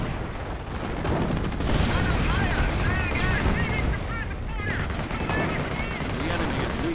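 An anti-tank gun fires in a video game battle, with heavy gunfire and booming blasts sounding continuously alongside chirpy game effects, partly under a talking voice.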